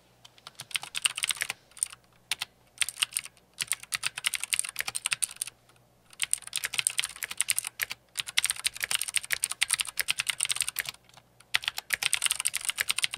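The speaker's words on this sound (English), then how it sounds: "Clicky switches are the ones that most people will think about when they hear about a mechanical keyboard" Rapid, steady typing on a mechanical keyboard with clicky switches such as Cherry MX Blues, loud and close, with sharp bright keystrokes in bursts broken by a few short pauses and no talking.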